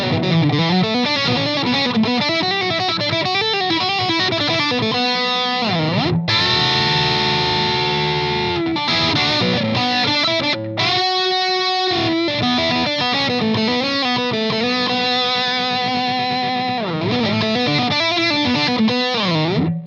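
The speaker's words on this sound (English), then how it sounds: "A little bit more gain gets put on top, gets a little bit more crunchy" Electric guitar played through a tiny amp on its red high-gain channel, a crunchy, heavily distorted tone with added effects, loud and continuous with sustained chords and riffs and no talking.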